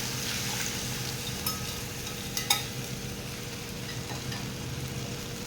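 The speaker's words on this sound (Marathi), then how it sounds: "व्यवस्थित आपण हे हलवून घेऊया" A kadhi mixture sizzles in a pan with a few light scrapes and taps of a spoon, over a steady low hum.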